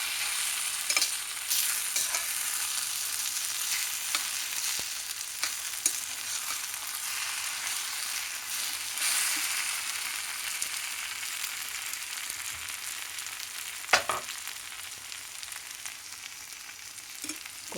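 Sabudana khichdi is stirred in a pan, a steady dry scraping hiss with soft sizzling that runs unbroken and fairly close, broken by a few sharper utensil scrapes, with no talking.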